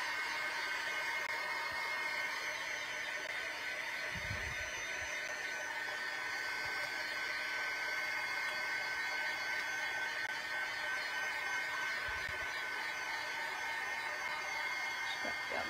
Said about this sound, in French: je vais le sécher avec mon séchoir